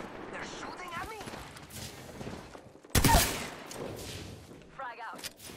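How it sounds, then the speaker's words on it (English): Gunfire in the Apex Legends video game: one loud sharp gunshot burst stands out midway, with lighter shots and battle noise around it, while voices talk through much of it. "They're shooting at me."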